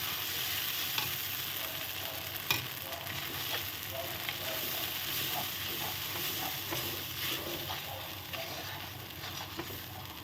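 Moong dal mixture with milk powder being stirred in a pan for sondesh, a steady soft sizzle with scraping spoon strokes and an occasional louder clack, close and continuous with no talking.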